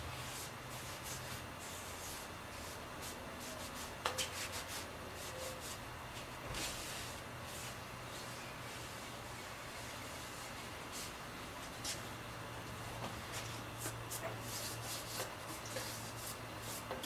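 Cloth rubbing and wiping residue off a Chevy big-block 454 engine block during a high-performance rebuild, a series of soft, quiet scrubbing strokes in an irregular rhythm with a few light knocks.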